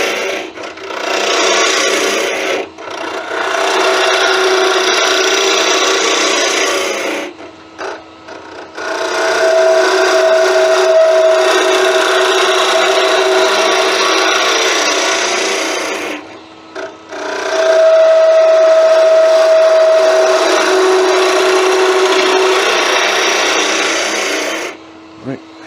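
A wooden wand blank being roughed down on a lathe with a gouge, loud continuous scraping and tearing of wood in three long passes separated by short pauses, close up.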